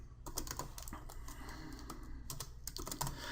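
Rapid clicking keystrokes on a computer keyboard, a steady close patter of taps with brief pauses, no speech.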